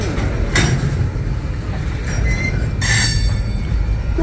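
An old boxcar on a freight train rolls past close and loud, wheels grinding and rumbling steadily, with bright metallic squeals cutting in twice and a rhythmic clatter underneath.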